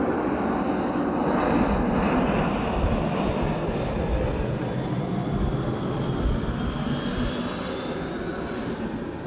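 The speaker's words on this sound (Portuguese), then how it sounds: "Tem mais um avião passando. Aqui é uma rota de aeronaves." An airplane passing overhead along a flight route, a loud, continuous roar of jet engines that stays strong throughout and slowly changes pitch as it moves over, with no one talking.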